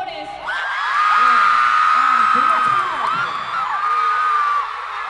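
High-pitched screaming and cheering from a concert crowd of fans at a show in Mexico, a loud sustained roar of whoops and shrieks that swells and holds before easing.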